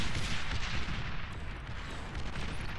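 Mobile mortar bots fire Tech 2 artillery in the real-time strategy game Beyond All Reason, a dense rumbling barrage of overlapping booms and crackling blasts that stays loud throughout.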